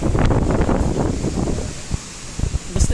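Strong typhoon wind in South Korea buffets the microphone, a loud, rumbling gusty roar that eases slightly toward the end with brief thumps.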